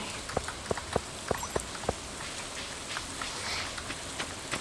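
Steady soft rain patters in a Stardew Valley farm scene, a fine hiss broken early on by several crisp, separate drop-like ticks, with no voices.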